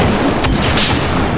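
RPG explosion in the Battlefield 4 multiplayer shooter: a dense, roaring blast with a sharp crack partway through and a rumbling boom, loud and sustained over steady game noise with no talk.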